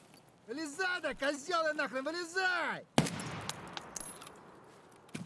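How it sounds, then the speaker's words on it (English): A sharp gunshot cracks in the video game Escape from Tarkov, followed by a lingering, echoing tail. Someone talks just before it. "those gunshots are going to be bringing people here"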